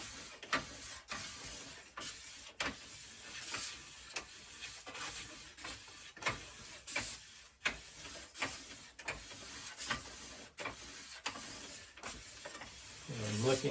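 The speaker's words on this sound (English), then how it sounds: "this fine side is really just a polishing the edge" A ski edge is polished with the fine side of a hand sharpener, producing faint, steady rhythmic scraping strokes about every second with soft hiss in between, ending with a brief voice.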